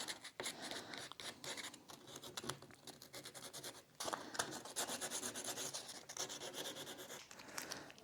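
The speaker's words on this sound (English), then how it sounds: "So sanding it just gives it that last little bit of shape that may be needed." Close, quiet rubbing and rasping strokes of sandpaper on a gilt picture frame being restored repeat in an uneven rhythm, worked back and forth over the surface.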